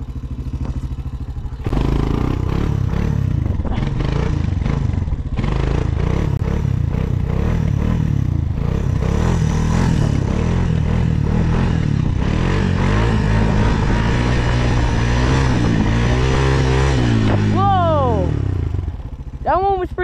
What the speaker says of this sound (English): now I'll just do some wheelies for you